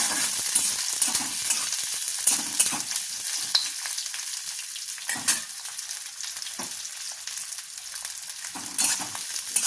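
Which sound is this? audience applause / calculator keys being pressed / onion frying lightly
onion frying lightly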